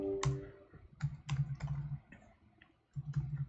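Computer keyboard clicking as code is typed, several short clusters of close key taps with brief pauses between them, fairly quiet.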